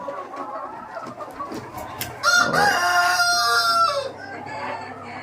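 Roosters and chickens on a poultry farm that keeps Kadaknath, Sonali, Aseel and other breeds: scattered clucks and bird calls, then one loud, close, drawn-out rooster crow.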